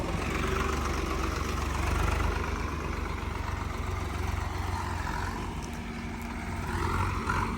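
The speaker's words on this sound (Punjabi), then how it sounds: "ਬਾਕੀ ਆਵਾਜ਼ ਵੀ ਫੁੱਲ ਭਾਰੀ ਹੈ ਟਰੈਕਟਰ ਦੀ" A tractor engine runs with a steady heavy rumble and low mechanical drone, continuous and fairly close, with no voices over it.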